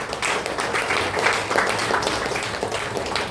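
A church congregation claps steadily for the Lord during a Sunday worship service, the dense, even applause filling the room for several seconds with no one speaking over it.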